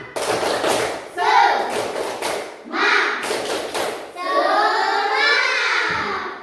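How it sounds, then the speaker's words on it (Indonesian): A classroom of pupils beats out a rhythmic spirit clap in a series of sharp, evenly spaced claps and taps, mixed with children's voices chanting and a teacher talking. "1, 2, 3, tepuk semangat"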